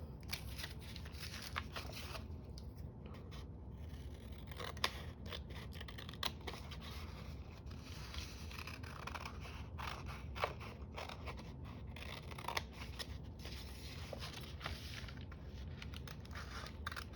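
Scissors snipping a watercolor still-life painting out of a sheet of paper, a steady run of soft crisp cuts and paper rustle, close and fairly quiet, with no voices.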